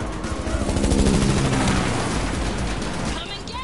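A big gun firing continuously in The Matrix Awakens Unreal Engine 5 demo, a dense, loud, sustained roar of rapid shots, layered with other action sounds.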